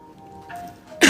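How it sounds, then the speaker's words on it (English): A woman coughs once, loud and close, near the end, after a quiet stretch during a live bullet-journaling session. "I'm so sorry for the coughing"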